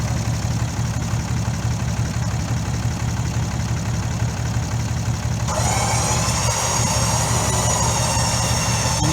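A Badland Apex 12,000 lb winch with synthetic rope hauls under load, a steady low motor drone and gear whine running continuously, with a higher, brighter whine rising partway through as it begins to slow; loud and close, no talking.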